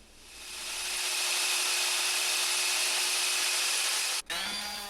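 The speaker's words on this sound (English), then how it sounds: "Now I'm just using the orbital sander with a pretty high grit sandpaper just to give it a smooth finish and clean up all the edges" An orbital sander with high-grit sandpaper smoothing a small wooden gift box: a steady, loud, close whirring hiss that holds at an even pitch, then dips briefly near the end before starting again, with no talking.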